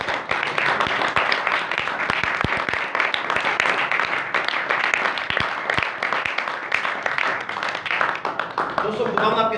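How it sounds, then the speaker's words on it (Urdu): A church congregation claps loudly and continuously, a dense, energetic wash of hand claps that holds steady from start to finish, with voices mixed in. "زور سے تالیاں."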